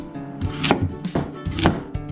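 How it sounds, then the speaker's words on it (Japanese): A knife chops through raw potatoes on a cutting board, slicing them into 1 cm rounds for a potato gratin. There are three or four crisp, evenly spaced knocks against the board, close and clear, with no talking. "じゃがいもを1センチ幅の輪切りにしていきます。"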